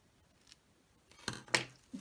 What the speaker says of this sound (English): So basically, I'm going to cut this off